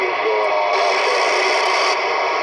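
A Uniden Bearcat 980SSB CB radio hisses with loud, steady static while its noise blanker is switched off, a dense continuous crackling wash with no voices.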